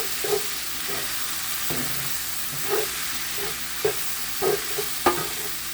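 Skirt steak and fajita vegetables seasoned with salt, pepper, garlic and olive oil sizzle in a pan as a steady hiss, with occasional clacks and scrapes of stirring.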